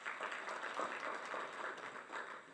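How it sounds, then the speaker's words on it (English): An evening audience at a gathering applauding themselves, a continuous moderate patter of many hands clapping throughout, fairly even and somewhat distant. "Let's clap for ourselves again."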